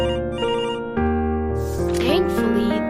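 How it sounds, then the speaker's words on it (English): A telephone rings with a bright electronic melodic ringtone, loud and close, its tones shifting in pitch across the clip, with no talk over it. "Suddenly, the telephone starts ringing."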